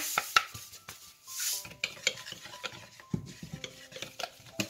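A whisk beats batter seasoned with salt for cauliflower fritters. It gives a steady run of quick, close taps and light scrapes against the bowl, with no voices.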